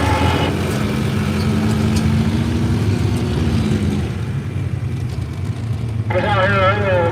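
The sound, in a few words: truck with big block Ford engine running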